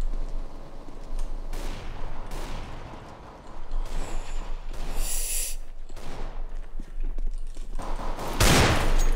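Desert Eagle pistol fire in a CS:GO deathmatch: several sharp, separate bangs spread over a few seconds, the last one the loudest.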